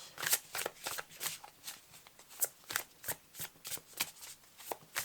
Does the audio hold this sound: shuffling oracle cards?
yes